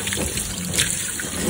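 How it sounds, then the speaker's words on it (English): Wet hiking pants, women's adventure pants soaked through, are wrung out, giving a short burst of water splashing and trickling close by, with no talking. "Make sure they're all fully saturated, but I'll wring them out."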